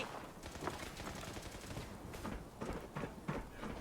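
Rapid bursts of gunfire in the post-apocalyptic shooter Fallout 76, quiet and somewhat distant, with crackling shots clustering into short volleys over a muddy background.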